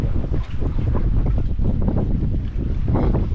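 Strong wind on an island buffeting the microphone in heavy low rumbling gusts, loud and continuous, with no voices.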